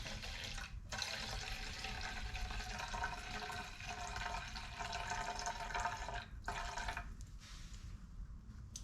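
Petroleum-based charcoal lighter fluid pours in a steady, continuous stream into a container for a homemade WD-40 mix, a close, full liquid gush that runs nearly unbroken with a couple of brief dips.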